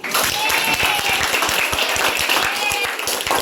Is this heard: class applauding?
yes